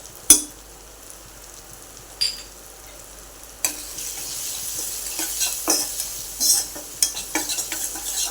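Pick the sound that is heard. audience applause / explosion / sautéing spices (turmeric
sautéing spices (turmeric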